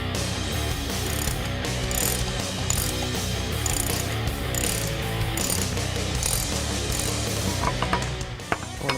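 Rapid, close ratchet clicking as a bearing retaining nut is tightened during a disc brake conversion on a 1966-1977 Ford Bronco, in repeated bursts of pawl ticks with mechanical rattling and no talk.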